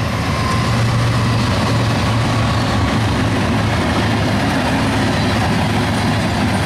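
A southbound CSX mixed freight train on the Toledo subdivision, three locomotives including a Genset, rolls past with a loud, steady, close rumble of engines and wagons.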